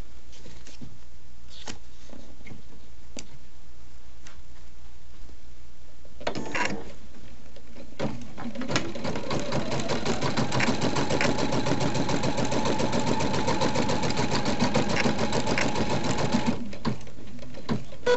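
A sewing machine stitches a tack-down line on an appliqué, opening with intermittent clicks and short handling noises, then settling into a loud, continuous rapid mechanical whir for the remaining ten seconds.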